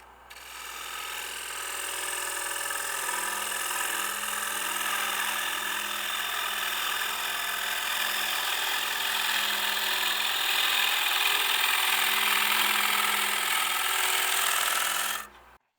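A wood lathe spins a workpiece while a gouge cuts, giving a steady, continuous whirring hiss with a low motor hum that starts abruptly, holds evenly for about fifteen seconds, then cuts off.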